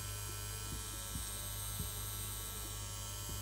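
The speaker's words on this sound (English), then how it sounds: "So here is the needle up close in its entirety running." A tattoo machine running with a T&T needle cartridge gives a steady electric buzzing hum, smooth and consistent, with faint periodic ticks, heard close up and alone.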